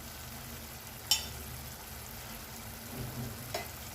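Spices and paneer gravy sautéing in a pan, red chili powder, black salt and asafoetida in the mix, a soft steady sizzle with a couple of light clicks, quiet and close.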